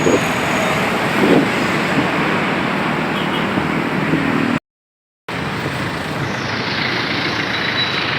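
Dense traffic near a bridge where the road narrows, a loud continuous roar of trucks and cars, cut by a brief total dropout midway before the rumble resumes.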